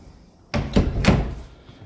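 Pantry double doors in a home open with a soft thump, followed by two quick knocking rattles as the panels swing, then the sound fades.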